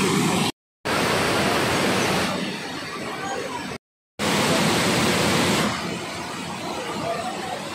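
Dam Agan waterfalls in Dimiao, Bohol roar as a loud, continuous broadband rush of falling water, heard up close and cut by two brief silent gaps.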